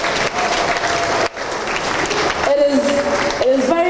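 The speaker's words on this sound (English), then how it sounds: "Please give him another round of applause" An audience at a Ghanaian national event applauds, a dense wash of clapping hands that carries on steadily while a voice begins speaking over it.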